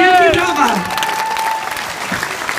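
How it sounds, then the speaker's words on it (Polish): Concert audience applauds a Polish film music orchestra in Wadowice, steady dense clapping filling the hall while a voice speaks over the start. "Wielkie brawa!"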